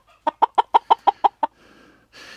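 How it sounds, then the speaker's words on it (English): A Buttercup breed rooster gives a quick run of eight evenly spaced, sharp clucks, close and loud, followed by softer rasping calls and a brief harsher squawk at the end. "This is a buttercup, and look at his little cone here."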